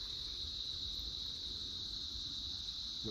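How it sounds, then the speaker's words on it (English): A steady, shrill cricket chorus drones without a break near a big farm in Chennai, India, with a low rumbling murmur underneath. "you can hear the sort of the crickets and the wildlife"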